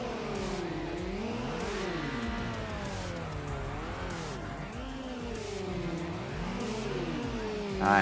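Mazda Miata engine in the racing game Need for Speed Underground, revving high with rising and falling pitch sweeps and repeated up-and-down throttle blips, continuous and close, with no talking.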